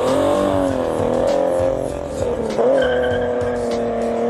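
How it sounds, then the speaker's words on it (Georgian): An old car's misfiring engine, which also smokes, runs as a loud, continuous, close drone with a wavering pitch that dips and then surges again near the end. No one speaks. "ძრავს აქვს აალების გამოტოვება,"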